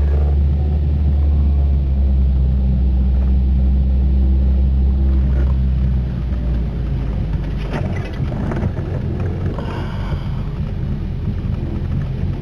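A Škoda car drives through snow toward home, its engine a loud, steady low rumble with tyre and road noise filling the cabin, no talk heard.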